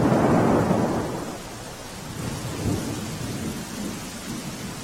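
Heavy monsoon rain pours down steadily in Navsari, Gujarat, while a deep rumble of thunder opens loud and rolls away into the continuous hiss of the downpour.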